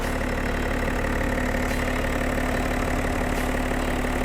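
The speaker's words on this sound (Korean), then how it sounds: "엔진 소리 일정하네요." A BMW 7 Series (G11) 730Ld xDrive diesel engine idles steadily at close range, a constant rumbling hum with a faint rhythmic ticking and no other sounds.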